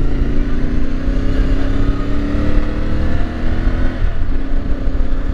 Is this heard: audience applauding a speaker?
no